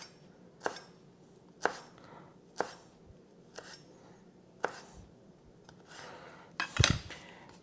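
A large knife chopping folded basil leaves into chiffonade on a cutting board, about six evenly spaced, crisp taps roughly a second apart followed by a louder clatter, close and quiet with no talking.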